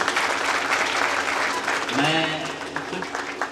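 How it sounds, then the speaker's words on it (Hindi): A crowd at a motivational seminar applauding with dense, steady clapping that fills the clip, while a voice briefly speaks over it near the end. "इनके लिए पहली बार एक बार तालियां होंगी"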